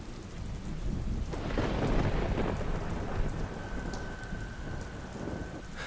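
Heavy rain pours steadily with a deep thunder rumble swelling partway through, loud and close, with no voices.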